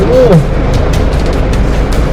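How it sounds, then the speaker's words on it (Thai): Torrential rain hammers the roof of a car in floodwater, a loud, constant close-up wash of noise, with a voice briefly at the start. "นี่คือเสียงฝนนะครับที่โดนหลังคารถนะฮะ"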